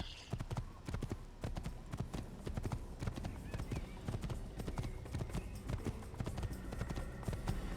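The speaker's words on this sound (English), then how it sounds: "Grab a horse if we want, because horses are free in this world." Horse hooves clip-clop steadily in the Assassin's Creed video game, a dense run of hoofbeats that carries on through the whole stretch at a close, fairly loud level.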